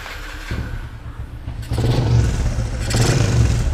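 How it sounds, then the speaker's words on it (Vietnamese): A Yamaha Exciter motorcycle with a freshly rebuilt engine, new piston fitted, starts up close by, catching after a clattering crank and settling into a loud, steady idle with a brief rev. "mình nổ máy cho anh em nghe là cái xe này mới làm máy xong"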